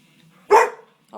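A dog named Jack lets out one sharp, loud bark close by in a house, followed by a brief vocal sound just after.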